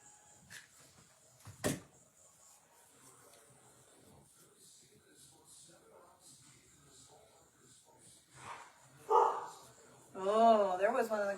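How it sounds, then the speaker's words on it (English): A greyhound barks once sharply in the background of a home craft session, with quiet talk, rustling and a voice rising near the end. "Did you guys hear the greyhound bark?"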